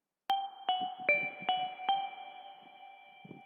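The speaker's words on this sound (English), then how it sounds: "It's just two sine waves at a really high octave with like a short LFO envelope for volume" A series of bright, high synthesized bell tones made from two high-octave sine waves with a short volume envelope, pure sine-like sustain, struck several times in a steady rhythm with a clean, ringing tail.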